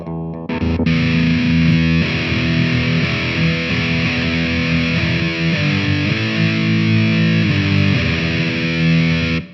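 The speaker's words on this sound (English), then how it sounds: "that's what line 6 thinks high gain should sound like" A Line 6 Flextone II amp on its high-gain channel, played loud: sustained, heavily distorted electric guitar chords ring out with several chord changes, thick and saturated, with no voices.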